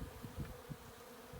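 Honeybees hum in a low, continuous buzz close by at a hive in a garden, a soft droning swarm sound with no voices.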